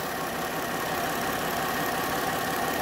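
The engine of a 2010 Ford Fusion runs at a steady idle up close, a continuous even drone with faint rapid mechanical knocking and no pauses or voices.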